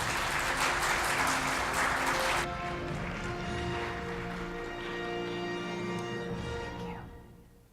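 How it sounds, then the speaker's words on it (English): An audience at an executive dinner for the Society of Women Engineers in Pune gives loud, dense clapping that cuts off after two seconds, leaving sustained music that fades toward the end. "with a huge round of applause"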